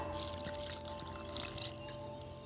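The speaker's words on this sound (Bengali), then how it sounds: "ছাঁকনির মধ্যে দিয়ে দিচ্ছি এই নর্মাল জল বন্ধুরা, এমনি জল একদম।" Plain tap water poured through a strainer over raw peanuts being washed for a masala namkeen snack, a steady close splashing trickle running throughout with no talk.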